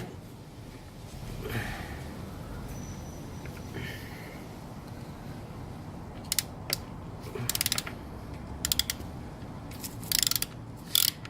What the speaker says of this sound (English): So let's remove this ground cable from here. This is a 10mm socket.